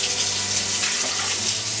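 Three cups of lukewarm water pour into a mixing bowl for bread dough, a steady, close splashing rush that continues without pause and without talk.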